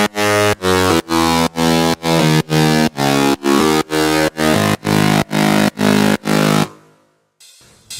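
A distorted bass synth layer group pumps through a steady run of chunky, sidechained notes, each cut by a short gap, before fading out near the end.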